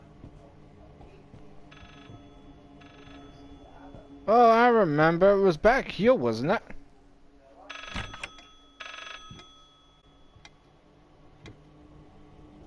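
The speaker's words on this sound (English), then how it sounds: "Is that a phone call?" In the horror video game Layers of Fear, a telephone bell rings in a warbling, trilling burst. Quieter ringing follows in the background while a person talks over it.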